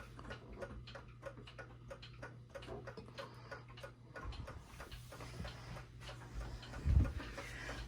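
A 1929 E. Ingraham bim-bam tambour mantel clock ticking at a steady, even rhythm, close and quiet, with faint room noise and a soft thump near the end.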